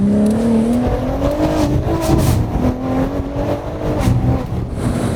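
A Nissan 350Z sports car engine revs loudly and close, its pitch climbing and falling in repeated throttle blips with a throaty rumble.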